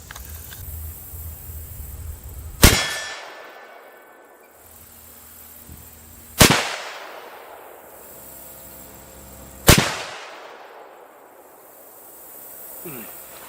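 Three sharp, loud 7mm-08 rifle shots firing 139 grain Hornady GMX ammunition at a range, spaced a few seconds apart, each with a rolling echo tail and quiet between.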